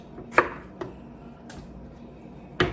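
A sharp knife chops through tomatoes on a cutting board in three or four separate crisp strokes, close and fairly quiet, with short pauses between the cuts.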